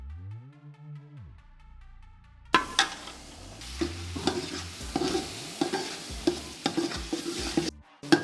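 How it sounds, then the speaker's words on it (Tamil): Mashed moong dal being stirred into Asoka halwa in a pan: a brief musical intro gives way to repeated scraping and stirring strokes with a soft sizzle, close and fairly loud, no talking. "இந்த பருப்பை போட்டுட்டு அப்படியே கைவிடாமல் கிண்டிகிட்டே இருக்கணுங்க."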